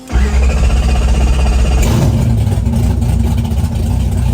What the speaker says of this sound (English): So in real life, this car chops when idling.